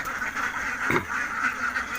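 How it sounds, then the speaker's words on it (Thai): Ducks kept for eggs on a mixed farm quacking steadily at close range in the early morning, a continuous chorus of nasal calls with one louder honk in the middle. "ก็มีความสุขครับได้เห็นนกเป็ด เขาวิ่งหาอาหารนะครับ"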